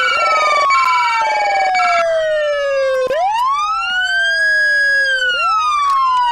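Loud electronic police sirens in a video game wailing and sweeping up and down continuously, with a brief click partway through; no voices.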